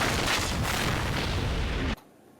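A loud cartoon explosion from a Batman animated episode, The Bat in the Belfry: a dense, rumbling roar that holds for about two seconds, then cuts off abruptly.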